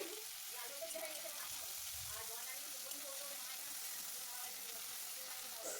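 Cabbage and tomato frying in a pan with a soft, steady sizzle and occasional stirring scrapes, faint and constant throughout.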